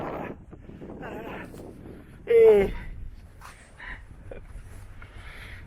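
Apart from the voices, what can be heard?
wind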